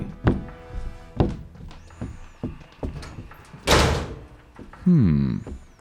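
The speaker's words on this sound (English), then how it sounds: "Your door seems to be bolted." A heavy bolted door is tried and rattled, with repeated thumps, knocks and clunks of the latch in an old house, followed by a louder slam and a dragging scrape near the end.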